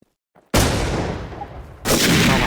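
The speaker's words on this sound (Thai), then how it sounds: "ระเบิดเยอะจังอะ" Loud, dense bursts of explosions and gunfire in the survival shooter game Infestation, a sustained blast followed after a short break by another heavy barrage.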